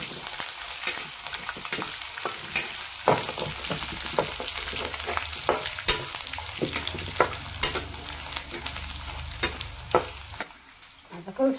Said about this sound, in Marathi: आपण आता थोडासा कढीपत्ता सोडू याच्यात।